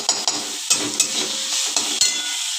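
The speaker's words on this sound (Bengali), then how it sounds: "এটা দিয়ে কষানো হয়ে গেছে মশলা দিয়ে মোচাটা" A spatula stirs chopped banana flower and spices in a well-used dark iron kadai, close up: scraping swishes with several sharp taps of metal on the pan, over a faint sizzle, with no talking.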